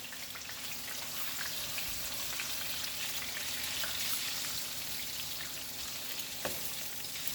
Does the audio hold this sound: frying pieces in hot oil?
yes